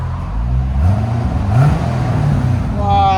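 A 2009 Chevy Corvette Z51 with a 6.2L V8 and Valvetronic Designs exhaust revs with its valves closed, giving a steady, muted rumble with one rising throttle blip midway.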